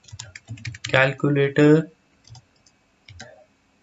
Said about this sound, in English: first I'll type Django